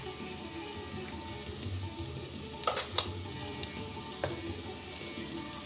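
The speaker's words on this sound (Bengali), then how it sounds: "চিনিটা দিয়ে আর একটু ভেজে নেব।" Peanuts, cashews, raisins and sugar fry in a pan with green chilli as part of a vegetarian sago pulao, giving a soft continuous sizzle with a few sharp stirring clicks partway through, close by and fairly quiet.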